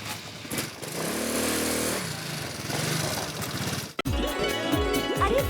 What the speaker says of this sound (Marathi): जेठा भाऊ स्कूटर घेऊन आले